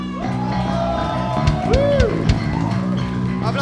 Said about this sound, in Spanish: Aplauso para Butter